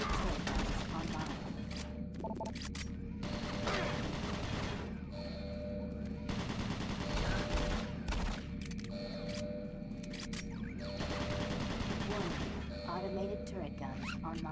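Automated turret guns in DOOM 3 BFG Edition fire in dense, continuous bursts, loud and close, with heavy low booms mixed in and voices partly heard over the gunfire.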